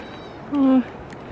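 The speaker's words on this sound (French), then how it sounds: "Il y a des chèvres partout, le troupeau doit faire plus de 200 têtes." A single short goat bleat rises once, close and clear, over a steady low background hum, in the Himalayas on the Annapurna trek above 3000 m.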